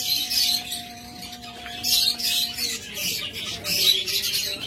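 Budgerigars and other cage birds in a bird shop chatter and squawk in repeated bright bursts, close and fairly loud, over a faint steady hum.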